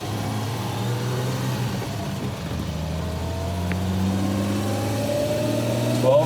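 A Volvo 164 with a Stromberg 175CD carburettor driving on the road, its engine drone steady and rising gradually in pitch as it gathers speed, close and continuous.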